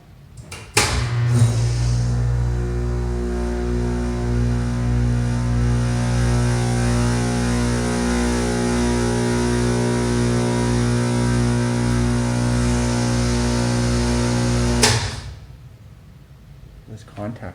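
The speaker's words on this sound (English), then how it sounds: "We're gonna send it back up and get a second shot at the motor room sound." A 2002 TKE hydraulic elevator motor runs loud and steady in its machine room for about fourteen seconds, a deep sustained hum with strong low harmonics, then cuts off abruptly.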